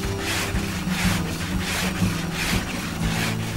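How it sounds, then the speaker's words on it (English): Back-and-forth strokes of a longboard sanding set filler on a boat hull in a workshop, a steady rhythmic rasping with regular pulses, close and fairly loud with no talk. "the filler has set, so it's time to fare the hull using a longboard."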